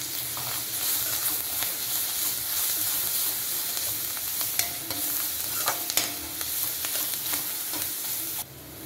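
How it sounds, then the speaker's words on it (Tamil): Ginger, garlic and onion fry in hot oil in a pan, a continuous close sizzle broken by scraping stirs and sharp spatter pops, with no talking. "இஞ்சி பூண்டு வதங்கிடுச்சுங்க"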